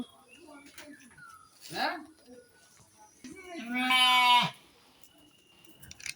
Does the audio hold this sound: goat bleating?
yes